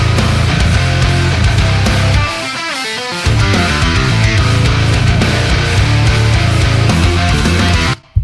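Dense album mix, with heavy rhythm guitars, bass and drums playing loud and steady, a brief drop-out around the middle before the full band crashes back in, then a sudden cut at the end.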